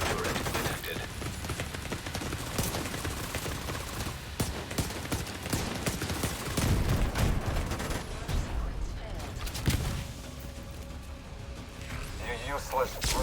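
A rogue assault turret in The Division 2 fires amid a chaotic firefight, dense overlapping gunshots and bursts continuing throughout, with voices talking over the shooting.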